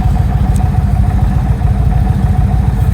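An Indian Springfield Dark Horse motorcycle engine runs steadily at close range, a loud, even low-pitched idle with a fast rhythmic thump and a faint higher whine above it, heard alone without talk.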